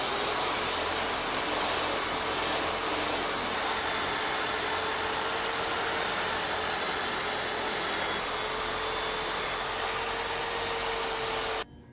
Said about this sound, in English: that is the second coat of the product, and then using the buffing wheel